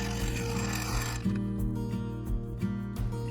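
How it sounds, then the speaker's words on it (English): Carbide cutter on a wood lathe turning a walnut offcut bowl, giving a continuous close scraping hiss over the steady hum of the spinning lathe, with faint rhythmic catches as the cutter removes waste. "The carbide cutter did a great job of removing the waste."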